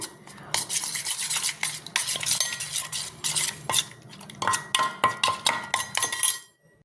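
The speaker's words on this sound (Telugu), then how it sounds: "ఇంకొంచెం వాటర్ పోసి మంచిగా కలబెడదాం" A spoon stirs ragi flour mixed with water in a bowl, sending repeated rhythmic scraping and clinking strokes against the bowl that are close and fairly loud and stop near the end.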